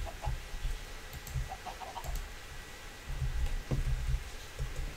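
Chickens clucking in the Minecraft video game, several short, soft clucks scattered irregularly over a low, steady background rumble, with no talk.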